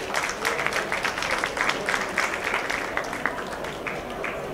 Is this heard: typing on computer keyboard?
no